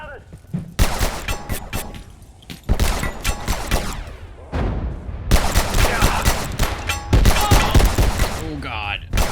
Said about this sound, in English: That's the guy operating the light machine, the heavy machine gun